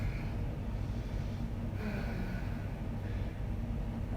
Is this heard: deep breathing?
yes